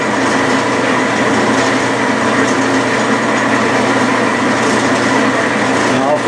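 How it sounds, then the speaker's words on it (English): A drill hums steadily as it center-drills into soft lead on a Bridgeport mill, a continuous close machine drone with no pauses. "Here I am center drilling the lead."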